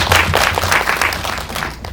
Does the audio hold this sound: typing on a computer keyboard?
no